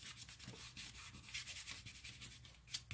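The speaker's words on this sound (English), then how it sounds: "But I just do this and rub it down." Paper glued onto a handmade craft box is rubbed down by hand, giving a quiet, continuous dry scuffing with short repeated strokes and no talking.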